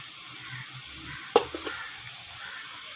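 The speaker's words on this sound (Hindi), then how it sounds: "तो इसकी कीमे की अच्छी तरह बुनाई करनी है।" Minced meat frying in ghee with dry coriander in a pan, a low steady sizzle with a sharp stirring clatter near the middle followed by a couple of softer knocks.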